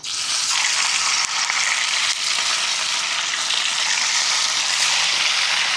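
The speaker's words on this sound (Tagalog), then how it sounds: "mainit na po yung ating mantika. Prito na tayo." Food drops into hot oil, which then holds a loud, continuous bright sizzle with dense crackling throughout.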